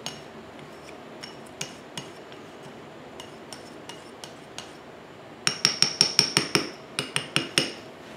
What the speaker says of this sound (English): I'm gonna use the gift card to just mix it up.